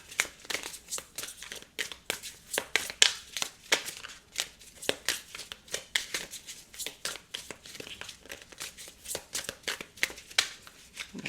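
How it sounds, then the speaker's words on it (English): Tarot cards are shuffled close up in repeated quick riffling bursts, crisp papery flicks and slides that come in an uneven rhythm and stay fairly quiet throughout. "You're really making me shuffle"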